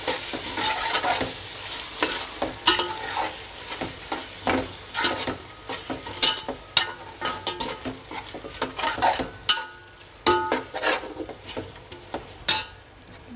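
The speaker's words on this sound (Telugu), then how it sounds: "చక్కగా కలుపుకోవాలి." Prawn biryani mixture with ginger garlic paste stirred in a sizzling pan, a spoon scraping and clinking against the metal in steady repeated strokes, close and continuous with no talk.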